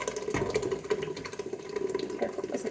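Canned tomatoes pour steadily into a blender in a gurgling, splashing stream for a few seconds, close by, with no talking.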